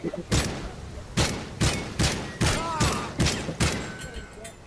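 Video game gunfire: a string of loud, close shots about once a second, each a sharp blast with a short tail, with voices talking underneath.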